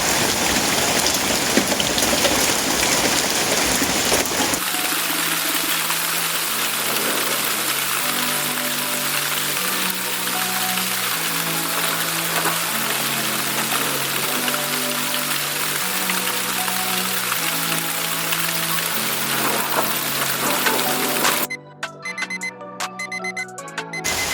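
Heavy rain pours over a rubber plantation during tapping, a steady, dense hiss throughout, with melodic music layered over it after the first few seconds.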